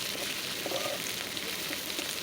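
Fish frying lightly in a little oil with onion and ripe red chilli, a continuous soft sizzle with faint crackles throughout, close and steady, no talk.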